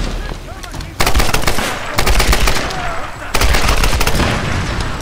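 Rapid automatic gunfire from a Tomb Raider video game rattles loud and close in three long bursts, each starting sharply with a dense stream of shots, with only brief lulls between them.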